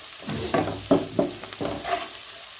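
A spatula stirs rava kichadi ingredients in a frying pan, giving several close, distinct scraping strokes over a soft background sizzle, with no voices.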